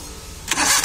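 A Maruti Alto 800 engine cranks and catches in a brief, close burst after a moment of quiet hum.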